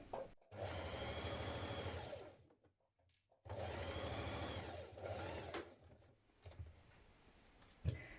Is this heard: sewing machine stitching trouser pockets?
yes